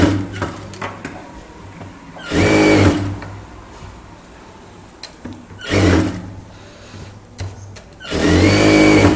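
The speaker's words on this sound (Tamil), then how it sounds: "அப்படியே சுற்றி அந்த லைனிங் கனெக்ட் பண்ணி தையல் போட்டுடலாம்" A sewing machine stitches the lining of a chudithar top in three loud bursts of rapid whirring, each lasting under a second, with quiet handling noise between them.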